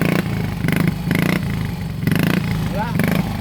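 A Honda Mio i 125 scooter engine, hard to start and smoking, runs loud at full throttle with a steady pulsing drone and rattling clatter, someone talking over it nearby.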